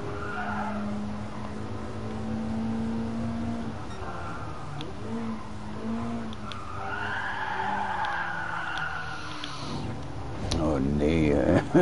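Tires skid and squeal as a Porsche spins out on the Nürburgring Nordschleife in the Gran Turismo Sport racing game, engine noise running throughout while someone talks over it, with a louder burst near the end.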